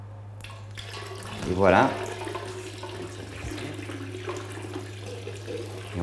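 Lukewarm water and vinegar mixture poured into heated goat's milk while stirring, giving a short splashing gush over a steady low hum, with a brief spoken remark afterward.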